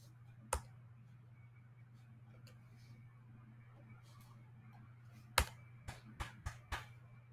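Computer mouse clicks at a desk, a single sharp click early on and then a quick run of four or five clicks a few seconds later, close and crisp over a low steady hum.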